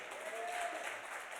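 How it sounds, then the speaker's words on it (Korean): A church congregation claps together during a Korean worship service, a brief burst of steady applause heard from a distance. "이런데 한번 박수 한번 쳐요."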